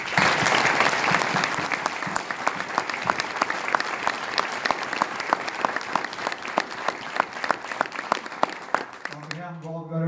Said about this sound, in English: I would like to ask for a round of applause for our community.